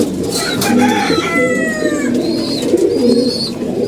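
Pigeons coo close by in a loft, their rolling, throaty calls overlapping and repeating steadily across the whole stretch, with no voices.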